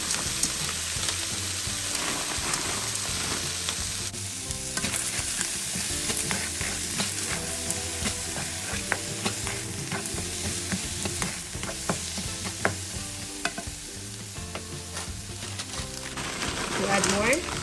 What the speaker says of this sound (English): And you stir it. The carrots, the mixed vegetables.